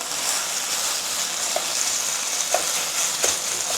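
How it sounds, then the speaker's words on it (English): Close, busy sizzle of beef stir-frying in a hot pan for spicy Hunan beef, with a few soft clatters of stirring over the continuous crackle and no voices. "stir fry the beef until it is nearly fully cooked but not overcooked"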